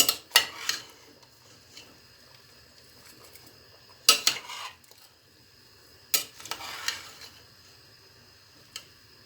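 Pepper pickle boiling in a pot being stirred, with a few clattering bursts of a utensil scraping and knocking against the pot and quiet bubbling in between.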